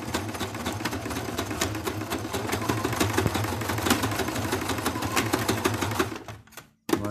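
A sewing machine stitches through three layers of fabric for a homemade face mask, giving a rapid, even mechanical clatter that runs steadily, then stops abruptly near the end with a brief click.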